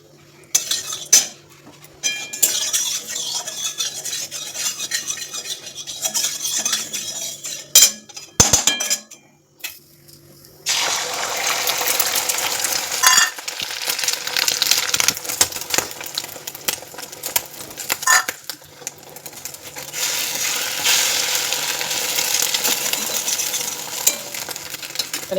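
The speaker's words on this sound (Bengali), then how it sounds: "আর এই তো ডিম ভাজবো" Eggs fry in a pan with a steady hissing sizzle. Clinks of metal utensils and dishes sound up close, and the sizzle grows louder and denser partway through. No one speaks.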